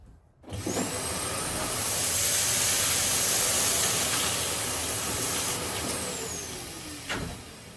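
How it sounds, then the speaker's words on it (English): Lyndsey Swan cylinder vacuum cleaner, with no rotating brush bar on its floor tool, running steadily on carpet as a loud continuous whoosh and hiss after it starts, with a brief bump near the end. "Let's see how it works on carpeting."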